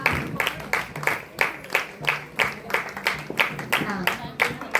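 An audience at a church women's meeting breaks into loud, rhythmic clapping in unison, about three claps a second, close by and steady, with voices mixed underneath.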